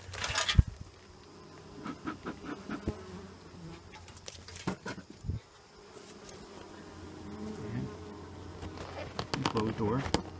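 Honeybees buzz and hum close by in a dense swarm at a hive during an inspection, with irregular knocks and bumps over the buzzing.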